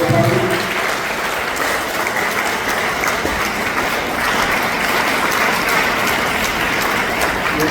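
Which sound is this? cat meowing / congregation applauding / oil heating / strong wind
congregation applauding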